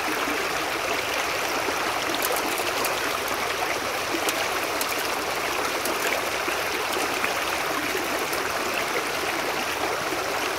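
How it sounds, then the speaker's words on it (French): Water pours into a gold-panning sluice, a continuous rushing, splashing flow that stays steady and fairly loud from start to finish. "Mettez un peu d'eau dedans. Vous pouvez le verser directement."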